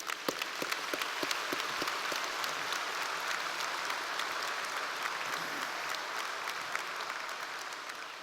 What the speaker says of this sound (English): How about a round of applause for your audience?